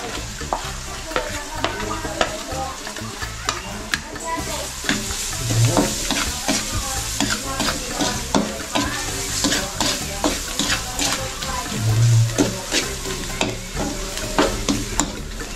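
Garlic sizzles steadily in a hot pan of oil, with frequent stirring scrapes and clicks running close and loud for the whole stretch.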